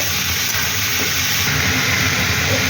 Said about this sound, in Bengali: এবার আমি এর মধ্যে এই চিকেনের এই হাড়ের টুকরোগুলো দিয়ে দেবো।